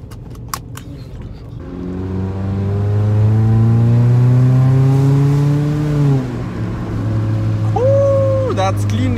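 Car with a blown muffler accelerating hard, its loud raspy exhaust rising in pitch through the revs, easing off, then revving again with pops and crackles near the end, heard from inside the cabin with talk over it.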